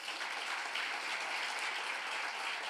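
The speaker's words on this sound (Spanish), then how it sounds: "Denle un aplauso al Señor." A church congregation applauds during a sermon, a dense, even wash of many hands clapping at once, sustained and fairly loud with no voices over it.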